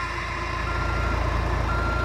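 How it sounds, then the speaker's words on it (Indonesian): A garbage truck reverses with a steady rumbling engine and a regular backing beep, close and loud with no talking. "Kok ada suara mobil pengangkut sampah?"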